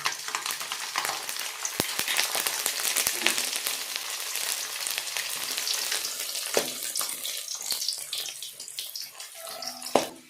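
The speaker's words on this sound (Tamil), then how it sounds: "எண்ணெய் காஞ்சிருச்சு கொஞ்சமாக வெந்தயம் போட்டுக்கலாம்" Garlic cloves and fenugreek seeds frying in hot oil for a Tamil fish curry, a continuous close sizzle and crackle with a few sharp pops and stirring scrapes, no talking.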